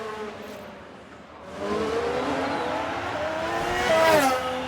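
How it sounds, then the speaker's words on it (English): Racing cars in the F1 Manager 22 video game scream past as engines rise in pitch, with tires squealing and skidding near the end as a car loses control, all loud and close. "They've lost control, and there's the crash."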